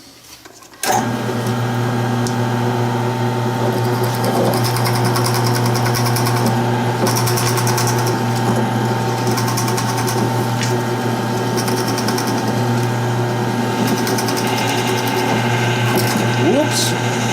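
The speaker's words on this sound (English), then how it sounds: "let's head over to the drill press." A drill press runs steadily for the whole stretch, a loud constant motor hum and whine with faint ticking and scraping as it works, starting abruptly after a quiet first second in a workshop.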